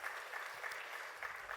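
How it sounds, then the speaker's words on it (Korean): Steady, fairly quiet applause from a congregation during a Wednesday church service, continuous clapping with no gaps. "우리 찬양받기 합당하신 하나님께 영광의 박수 올리겠습니다"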